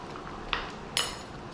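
A spoon knocks twice against a pot of red gravy fish stew (courtbouillon). The two short, close metallic clinks are about half a second apart, over quiet kitchen background.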